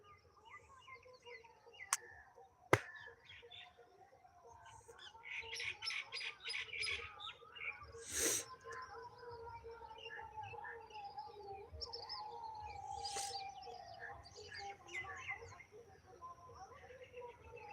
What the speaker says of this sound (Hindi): पक्षी की आवाज़ ये बिल्कुल रियल है।